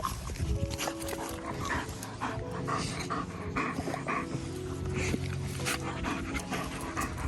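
Several dogs pant and whimper together in a group socialization training session, a steady close panting under faint background noise, with no voices.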